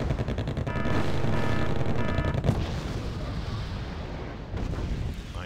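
Rocket artillery in Wargame: AirLand Battle, a rapid rippling barrage of launches and blasts followed by a booming explosion and a long rumbling decay.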